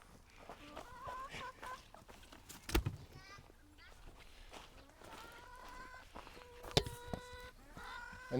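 Chickens cluck and call in a pen bedded with deep litter mulch, their repeated harmonic clucks scattered across the scene, with a sharp thud and occasional footsteps mixed in and a person talking over them.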